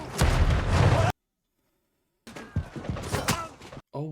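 Grenade explosion in a film war scene set in the First World War trenches, a loud dense blast with debris and rumble, a brief dead silence, then more close bursts and impacts.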